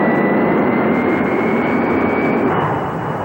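Jet-engine dragster at an evening drag race, a loud, continuous roaring blast with a high whine running steadily throughout.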